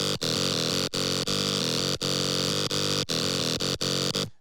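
A bright, nasal saw-wave synth lead built in Serum for a dance-music remix drop plays loud and alone, repeating short stabbed phrases with brief gaps between notes.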